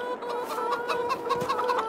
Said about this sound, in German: Da ist er, der Hahn.